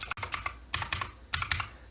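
Keys on an RGB mechanical gaming keyboard are pressed in three quick bursts of sharp, clacky clicks, close and loud, separated by brief pauses with no talking.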